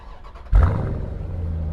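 A 2018 Dodge Durango SRT engine cranks briefly and fires up with a sudden loud burst, then settles into a deep rumbling idle, recorded close with no talking.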